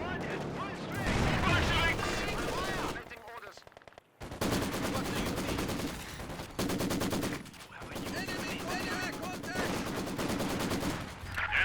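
Machine guns rattle in a WWII strategy video game match, with long bursts of rapid fire and heavy volleys broken by short pauses, while a commentator talks over the battle.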